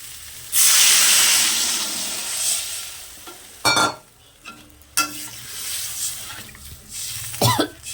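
Water poured into a frying Bengali fish curry with taro root bursts into a loud hiss of steam, then settles into lighter sizzling broken by a few sharp knocks and scrapes of a spoon, with no talking.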